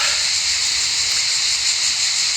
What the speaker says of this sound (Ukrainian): Ось річечка.